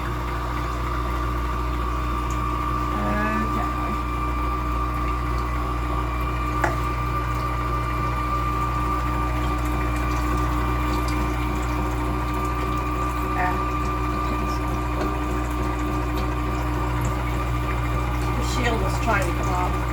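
An electric tomato juicing machine runs with a steady, close mechanical hum and whir, holding an even level throughout with faint background sounds over it.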